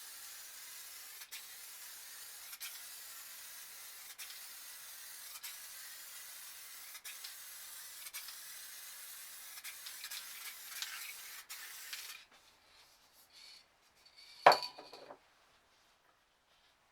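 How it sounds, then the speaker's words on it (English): Clear coat spray paint from an aerosol can sprayed side to side across a painting, a steady close hiss with short pauses, then stopping and followed by a few brief handling sounds. "So what we're going to do is spray from side to side and up the painting."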